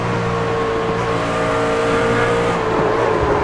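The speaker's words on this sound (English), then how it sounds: "He hits that curb, and that just really just sends the truck around." A race truck hits an unforgiving curb at Pocono during a truck series round, engine droning loud and steady with a brief squealing scrape near the end, under continuous racing noise.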